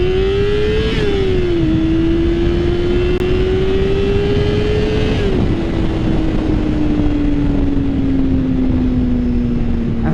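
Yamaha R6 sport motorcycle on a relaxed cruise, its engine droning steadily with a couple of gear shifts and gradual pitch drops, loud and continuous over wind rush.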